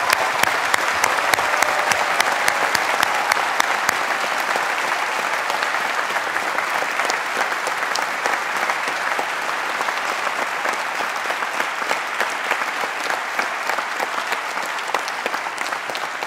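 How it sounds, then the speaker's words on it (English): Sustained applause from a large audience greeting new Strathclyde Business School graduates at their graduation ceremony, a dense steady roar of many clapping hands lasting throughout with no talk over it. "let's start by giving these new Strathclyde graduates a big collective round of applause"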